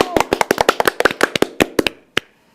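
Loud hand clapping in a studio, a rapid run of about twenty sharp, close claps that slows and ends with a few spaced final claps.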